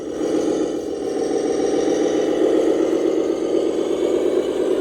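Small electric motor of a remote-controlled toy tractor pushing and pulling in soil, a steady close whine with a slight rattle that holds for the whole stretch and builds a little near the end.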